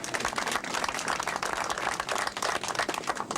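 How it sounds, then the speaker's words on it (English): A dense wash of audience applause at a local 1994 community presentation honoring sponsors, steady and fairly loud throughout with many overlapping hand claps and no break. "Comcast Cable Communications both deserve a round of applause"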